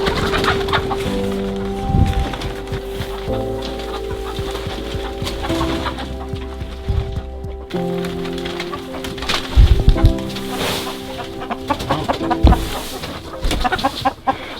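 Chickens cluck and murmur inside a frozen winter coop, several birds close by chattering continuously, with occasional louder squawks and no one talking.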